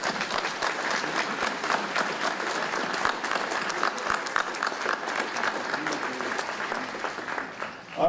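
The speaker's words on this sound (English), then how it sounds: "join me in giving them a big round of applause" An audience at the opening ceremony of the United Nations Command headquarters at Camp Humphreys, Pyeongtaek, claps in steady, dense applause lasting several seconds, then tapers off near the end.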